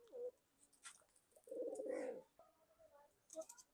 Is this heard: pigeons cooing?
yes